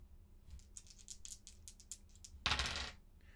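Dice clatter in a solo tabletop session of Twin Stars: a run of small taps and rattles, then one loud, dense roll near the end, close and alone with no voices.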